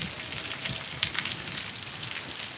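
Downpour over waterlogged fields, a fine crackling patter of heavy rain with scattered sharper drop hits, fairly soft and continuous, no one talking.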